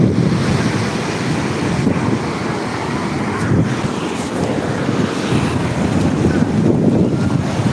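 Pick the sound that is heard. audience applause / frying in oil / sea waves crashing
sea waves crashing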